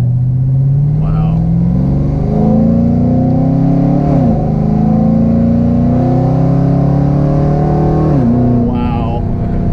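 A modified 2013 Camaro ZL1 accelerates hard from inside the cabin. Its loud engine note climbs steadily, then drops sharply at two gear shifts before rising again, with voices faintly present.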